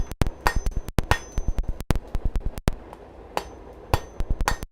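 Blacksmith's hammer striking hot metal on an anvil in a smithy, sharp ringing blows in quick bursts of several strikes separated by short pauses, close and loud.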